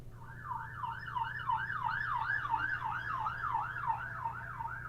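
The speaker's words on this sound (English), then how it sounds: "The sirens on your end." A wailing emergency siren sweeps up and down in a fast, regular cycle. It sounds moderately distant over a steady low hum, with no talk.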